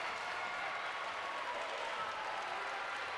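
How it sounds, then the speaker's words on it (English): Crowd at a volleyball match in Cleveland applauds and cheers on its feet, a dense, sustained wash of clapping and crowd noise at moderate distance, steady for the whole stretch without speech over it. "The crowd on their feet in Cleveland."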